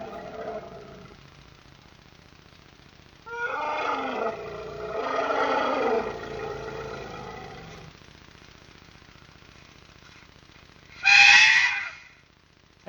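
A frightened or disturbed elephant trumpets and rumbles in several loud harmonic bursts, then a shrill high trumpet blast near the end, with a steady low engine-like drone underneath throughout.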